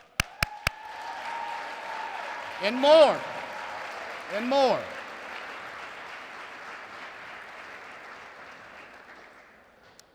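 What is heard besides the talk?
audience applause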